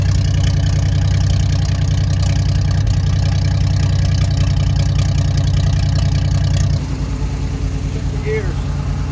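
The engine of a 1958 Mack B-21 fire truck, revived after 30 years of sitting, idles with a loud, steady, low throb. It then abruptly cuts off, leaving quieter background, while people talk.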